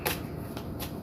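Tarot cards shuffled by hand at close range, quick riffling bursts of papery snaps in a brief flurry.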